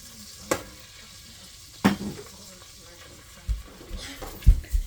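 Butter softening and sizzling in a pan on a warm stove, a quiet low crackle broken by a few sharp pops and clinks of utensils, with faint background sounds.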